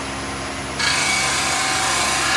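A skew chisel cuts a raised wooden bowl spinning on a lathe, first as a quieter steady hum, then as a sudden bright, continuous rasping shear that holds steady close by.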